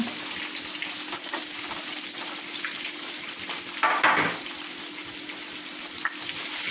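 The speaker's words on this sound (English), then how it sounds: "এটাকে একটু সটে করে দিব এখন।" Onion, capsicum and green onion sauté in a pan for chili chicken, giving a steady, moderate sizzle with light stirring and a short clatter partway through.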